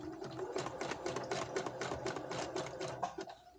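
A sewing machine runs a back-and-forth stitch while a pair of panties is taken in. Rapid, even needle clatter sounds up close for a few seconds, with brief pauses and no voices.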